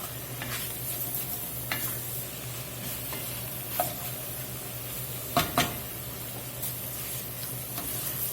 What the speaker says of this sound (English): I'm going to stir this up real good.